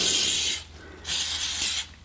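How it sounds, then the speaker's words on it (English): Silicone spray hisses from an aerosol can onto a dogbone engine mount insert in two loud, steady bursts of about half a second each, separated by a brief pause. "just spray a little bit of silicone spray on it"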